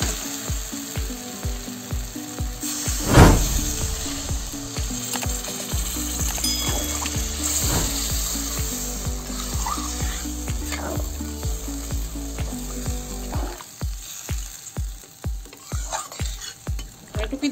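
Potato and eggplant curry sizzling in a pan as liquid is poured in, a loud splash of added water over steady frying, then a rhythmic stirring scrape repeating near and clear toward the end.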